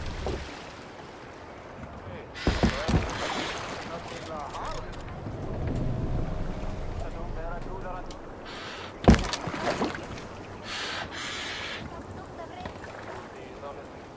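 Viking longship oars rowing through water in Assassin's Creed Valhalla: splashing strokes and sloshing water against wind, with voices shouting over it.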